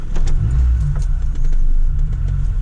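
A Volkswagen Polo Mk1 engine cranks on the starter and catches, a short rough rumble close by, with faint jingling of keys.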